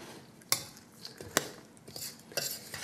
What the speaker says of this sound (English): Stir that around good.